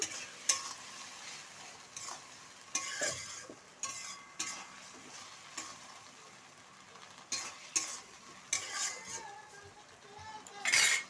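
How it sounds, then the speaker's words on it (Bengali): A spoon stirs chicken curry masala with ginger paste and a splash of water in a pan, producing soft irregular scrapes and clinks over a low, intermittent sizzle, fairly quiet throughout. "আদা বাটাটা দেওয়ার পর আমি দিয়ে দেবো সামান্য একটু জল দিয়ে ভালো করে নাড়ি নেব"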